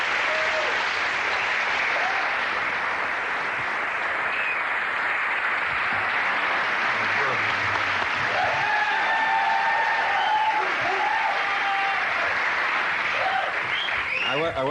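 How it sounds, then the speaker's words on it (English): A talk-show studio audience applauds a guest in a long, even roar of clapping that holds steady for the whole stretch, with faint voices and a few whoops under it. "I wasn't standing for the applause"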